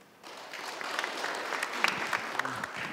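At a policy debate forum on the Daegu-Gyeongbuk new airport, the audience breaks into applause to welcome the panelists, a crowd of hands clapping steadily after a brief quiet start.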